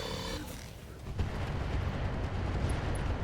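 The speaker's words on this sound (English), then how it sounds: "we're just going to fire at this Marauder" Mech weapons fire at a Marauder in the RogueTech game: a heavy rumbling blast with a deep sustained boom, loud and close, then a steady low roar, with no speech.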